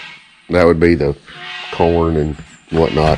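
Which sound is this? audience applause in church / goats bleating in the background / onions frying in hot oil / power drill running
goats bleating in the background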